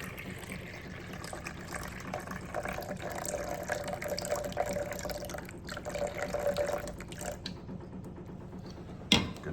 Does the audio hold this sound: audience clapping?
no